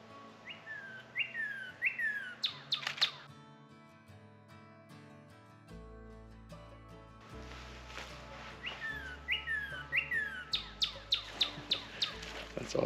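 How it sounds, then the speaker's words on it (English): A northern cardinal singing in the woods, clear loud whistled phrases repeated in rhythmic series, pausing midway while background music plays, then resuming with several more bright slurred notes close by. "This cardinal's being super vocal."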